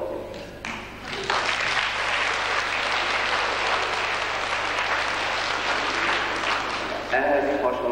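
Audience applause at a 1997 Christmas school program in a Hungarian primary school, a dense, loud, sustained burst of clapping that rises sharply after a quieter opening and holds steady for several seconds.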